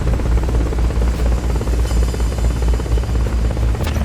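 A helicopter in a Metal Gear video game roars loudly and continuously, its rotor chop and engine drone steady and close with no voices over it.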